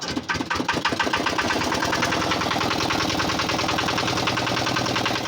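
A bus engine idles and runs on a foggy early morning, producing a loud, steady, close rumble with a dense knocking pulse that holds without a break from start to finish.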